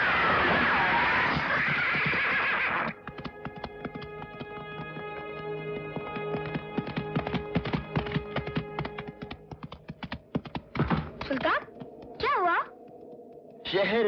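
A horse neighs and whinnies in a Hindi film scene, amid busy clattering, clicking noises and a short burst of broad rushing sound at the start.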